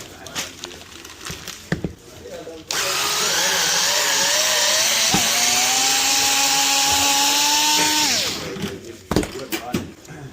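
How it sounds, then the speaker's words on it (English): A power drill whirs steadily for about five seconds while drilling a rifle buttpad, its pitch climbing slightly before winding down, with brief speech and clatter before and after. "Go drill it."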